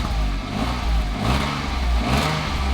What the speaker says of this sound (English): Here is how it sounds with the stock exhaust.